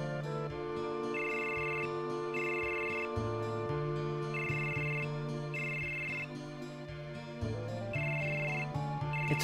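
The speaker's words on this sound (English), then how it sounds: "It's a phone, you answer it." An electronic phone ringtone from the video game Final Fantasy VII repeats in regular bursts over background game music, with no voices.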